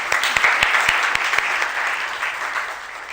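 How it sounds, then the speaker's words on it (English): A conference audience at a summit in a hotel applauds, a dense, sustained clapping from many hands that fills the room and slowly tapers over a few seconds. "she deserves a really big round of applause"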